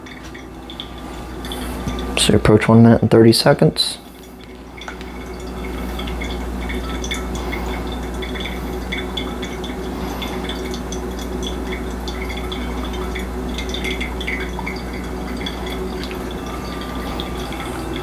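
Water pours in a steady, trickling stream for a long stretch for pour-over coffee, with a brief clatter early on and a voice speaking once over it.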